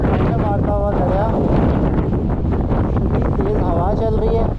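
Strong wind buffets the microphone on the Hussaini suspension bridge above a cold river, a loud constant roar, while a voice talks over it throughout.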